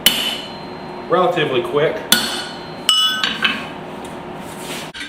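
Hand hammers and punches striking hot metal while forging a tiny hammer, giving a few sharp, ringing metallic hits spaced apart, with brief talk over the work.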